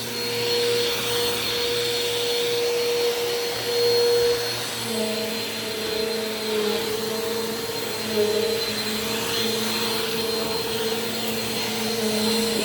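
A Bissell PowerForce Compact Turbo vacuum runs on dirty carpet with a loud, steady close-up whine and roar, its pitch shifting slightly as it moves, with no talking.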